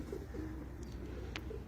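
Lahori pigeons coo in low, soft repeated notes nearby, a few gentle calls over steady background hum, with a faint brief chirp among them and no talking.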